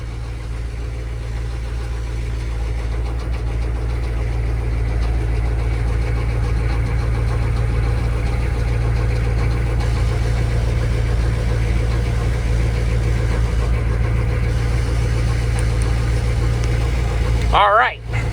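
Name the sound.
6.2 Detroit diesel truck engine idling in cold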